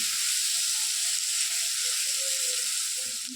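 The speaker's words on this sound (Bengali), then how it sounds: "তো চলো এটাকে ভাজা ভাজা করে নিই" Potatoes frying in a pan for a home-cooked fish dish, a steady close sizzle that stays even throughout with no voices.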